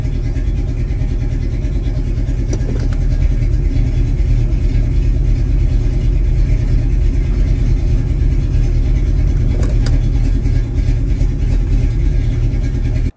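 A car engine with Holley EFI idling while shifted in and out of gear, a close, loud low rumble that stays steady throughout, with a couple of faint clicks over it.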